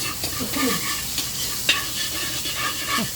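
Onions sizzling in a hot pan while being stirred with a utensil, a steady close frying hiss with scraping strokes across it and no talk.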